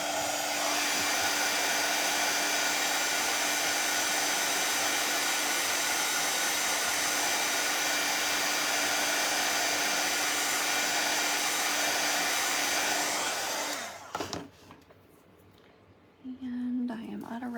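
A hair dryer runs steadily at close range, blowing on freshly painted candy cane ornaments of a Santa gnome craft, then cuts off near the end, leaving quiet rustling and a faint voice.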